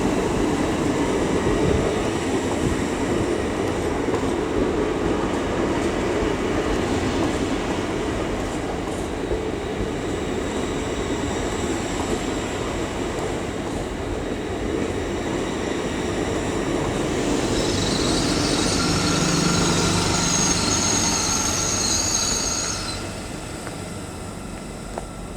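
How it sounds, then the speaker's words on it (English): Trains depart York station, a long, loud rumble of rolling stock with rail noise and the roar of wheels, a high squeal joining near the end before the sound eases off. "now we have 2 trains departing"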